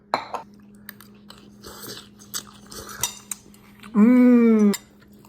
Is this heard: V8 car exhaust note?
no